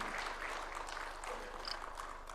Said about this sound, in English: Why don't we welcome him with a hearty and warm clap?